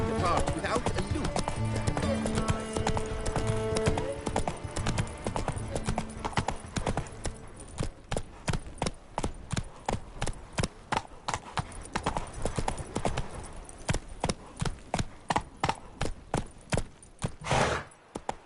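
Roach, a horse in the video game The Witcher 3, gallops in quick, steady hoofbeat rhythm that loosens into slower separate clops toward the end. A short neigh sounds near the close, with a voice speaking briefly over it.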